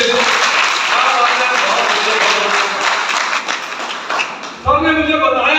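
Loud, dense applause fills a hall as an audience claps steadily for a speaker at an event. It fades slightly before a voice begins talking at the end.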